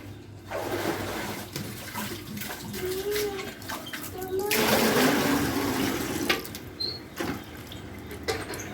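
Water drains steadily through the cleaned outlet of a home washing machine after soot-like waste has been flushed loose, a continuous gushing rush that swells midway and lasts throughout, close and fairly loud.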